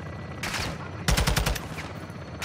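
Gunfire in the game Call of Duty: Modern Warfare 2 (2022), during a raid on a base: a short burst of rapid automatic shots, then a second denser volley, loud and close.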